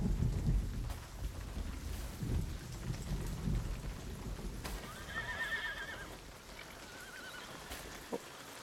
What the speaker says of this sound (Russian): Подождите здесь, пока не закончится дождь.